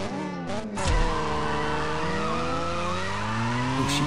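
Racing engines in the mobile drag game CSR2 roar and rev continuously, with shifting gear whines and a brief tire screech near the start, loud and close with no talking.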